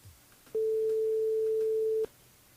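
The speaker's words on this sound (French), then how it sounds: "On appelle Amalia du côté de la plaine des CAF sur le jeu Séjour par SMS" A telephone ringing tone sounds while a radio host calls a listener during a live Réunion radio show: one steady, clean electronic tone of about one and a half seconds, alone, bracketed by quiet line noise.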